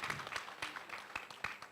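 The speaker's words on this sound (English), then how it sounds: "I think we deserve a round of applause." Audience at a launch event in Abuja, Nigeria clapping, a brief, faint patter of applause with a few distinct claps, lasting under two seconds.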